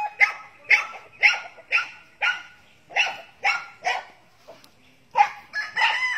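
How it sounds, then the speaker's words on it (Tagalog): Dog on a farm barking repeatedly and loudly at close range, a steady run of a dozen or so sharp barks with short gaps, no other sounds. "Tapos asong nag-iingay."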